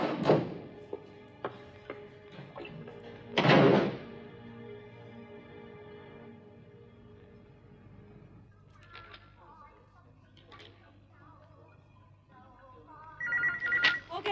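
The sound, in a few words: telephone ringing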